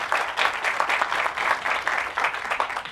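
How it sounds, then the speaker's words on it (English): A crowd at a trades center ribbon-cutting ceremony applauds with sustained, dense clapping that swells and dips in waves and sounds fairly close. "So round of applause"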